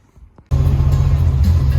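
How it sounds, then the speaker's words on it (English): A Porsche Targa engine starting to idle, a steady low rumble that begins abruptly after near silence and holds an even, close drone. "as you can probably hear, we've got the engine running, purring lovely"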